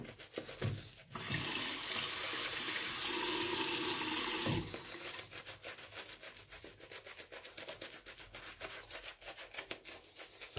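Tap water runs steadily into a sink for several seconds while shaving soap is being prepared, then stops, followed by rapid rhythmic rubbing and lathering sounds.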